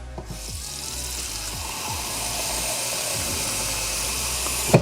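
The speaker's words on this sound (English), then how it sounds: "So I want to open up the lid, and want to pour some water in." Water streams into a one-quart Pyrex glass mixing bowl in a steady, close pour, a continuous hissing splash with a small clink at the end.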